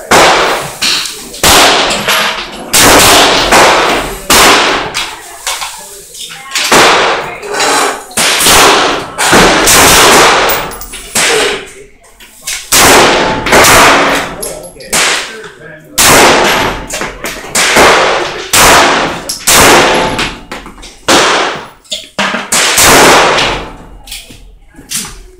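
An AR rifle fires repeatedly at paper targets outdoors, a long run of loud, sharp, close cracks in irregular bursts separated by short gaps.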